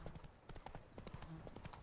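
Horse hooves clip-clopping in The Witcher 3: Blood and Wine video game, a steady rhythmic series of soft hoof strikes over faint background game ambience.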